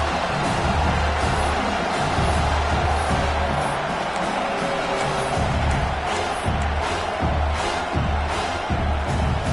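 A stadium crowd at a football game fills the air with a steady, loud roar, swelling and surging in waves.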